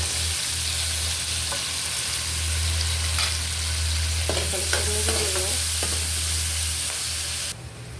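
Chopped onion and green chili fry in hot oil with cumin seeds, giving a loud, steady sizzle throughout. A few scraping stirs come in the middle, and no one speaks.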